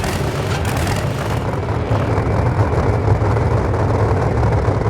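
Drag racing car engines in the NHRA Championship Drag Racing video game firing up, a loud, dense low rumble with a harsh rattling roar that thickens after the first moment and holds steady.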